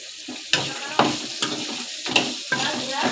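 Cashews, cinnamon, cloves and coconut are stirred and roasted in a pan, a close dry sizzle with repeated scraping strokes of a spatula about every half second.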